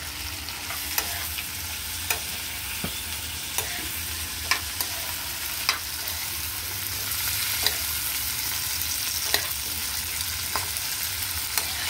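String beans fry in a pan with a constant loud hiss, while a utensil stirs them, making sharp clicks and scrapes against the pan every second or so.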